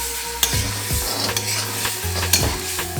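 Minced meat with ginger-garlic paste and salt sizzles and crackles steadily in ghee in a hot pan while a utensil scrapes and stirs it in repeated strokes, close up.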